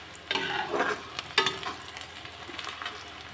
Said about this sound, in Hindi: अब इसको भी हम दो मिनट भून लेते हैं